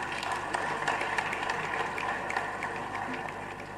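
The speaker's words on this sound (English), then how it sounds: "Ladies and gentlemen, please join me in applauding these heroes." Dense, steady applause from a large audience at a university convocation ceremony, a continuous wash of many hands clapping that holds evenly for a few seconds before easing slightly, heard at moderate distance.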